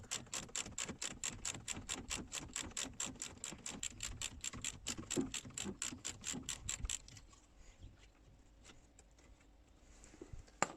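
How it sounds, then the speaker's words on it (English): A ratchet undoes a 22 nut on the pipe clip of a car brake caliper during a front-end strip down. Fast, even clicking runs close-up for about seven seconds, then fades to quieter handling with a few scattered clicks. "To remove the caliper, it's just to undo the pipe clip first, which is a 22."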